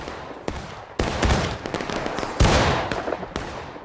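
Gunfire in the video game War of Rights crackles in sharp, loud volleys, several overlapping shots bursting at irregular intervals with a rolling, echoing tail between them.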